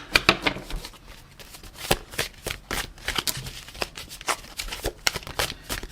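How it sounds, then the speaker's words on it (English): Tarot cards are shuffled continuously up close, a rapid crisp riffling and flicking that comes in repeated bursts throughout. "I'm going to keep shuffling."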